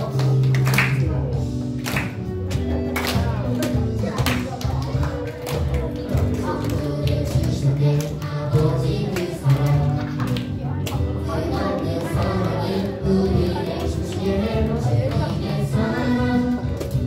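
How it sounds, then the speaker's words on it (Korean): Children at a Sunday worship service for a church's youth department clap steadily along to a worship song, the regular sharp claps running under loud group singing throughout. "박수 치면서 따라 부를게요"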